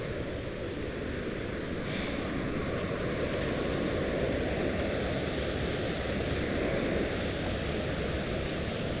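Steady, dense rush of water cascading over rock at Hanging Rock Falls in Ulster Heights, NY, a continuous broadband roar heard close and alone, with no voices.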